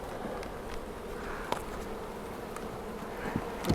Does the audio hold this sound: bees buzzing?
yes